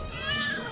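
Cats meowing in a television commercial, a short, faint, high-pitched mew drawn out over a soft background bed.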